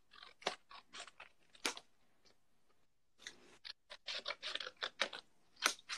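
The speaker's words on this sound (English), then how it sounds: "I'm going to just cut into a rectangular shape the size that I would like my tiny book to be." Scissors snip paper into a small rectangle for a tiny handmade book, giving a quiet run of crisp cuts, then a short pause and a denser burst of close snips.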